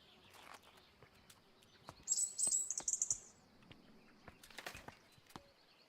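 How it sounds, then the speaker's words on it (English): Birds in the garden of the video game Botany Manor chirp in short, bright bursts, with a denser cluster of tweets in the middle, over a quiet ambient background with faint taps. "Here's all the birds."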